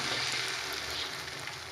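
Beaten eggs hitting hot oil in a frying pan for a cheese omelette, giving a loud, steady hissing sizzle with no voices.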